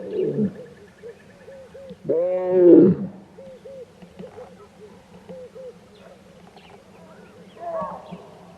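Lions roaring in Mapungubwe National Park after a tussle, with deep drawn-out roars and a sequence of rhythmic grunting calls repeating at a distance, plus a low steady hum and a voice briefly speaking in the background.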